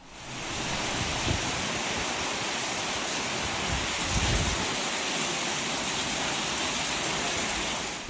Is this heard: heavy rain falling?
yes